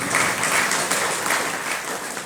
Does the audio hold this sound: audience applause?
yes